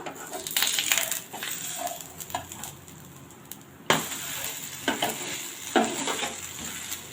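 A dosa sizzles steadily on a hot pan, with coriander sprinkled on top, as it is flipped; the frying hiss is broken by a few close scraping knocks, including a sharper clatter midway.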